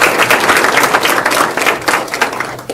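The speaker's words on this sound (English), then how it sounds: "Jim, I think we should all applaud you." An audience claps together at a talk, a dense, loud burst of applause that stays steady for a few seconds with no voices on top.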